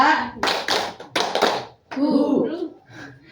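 A group counselling session practises a two-beat clapping pattern: two quick bursts of hands clapping together, close and sharp, followed by a voice speaking.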